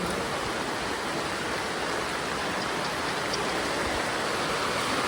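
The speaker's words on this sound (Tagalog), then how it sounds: "Bigyan ng lakas po ng ulan ngayon." Heavy rain pours down during a sudden flood, a dense, steady roar of water that fills the space, loud and unbroken, with no voices.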